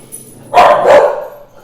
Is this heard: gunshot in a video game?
no